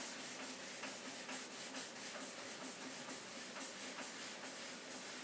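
Paste wax is buffed by hand onto a painted table with a chalk-like finish, giving a faint, close, continuous rubbing swish in an even back-and-forth rhythm.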